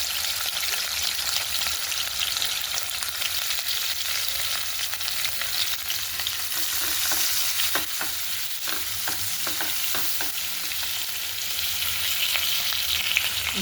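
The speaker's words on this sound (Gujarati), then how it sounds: "એમાં નાખીશું કેપ્સિકમ લાંબા લાંબા સમારેલા" Long-sliced capsicum frying in a pan over medium gas, a steady loud sizzle with scattered crackles and light stirring scrapes throughout, with no voices.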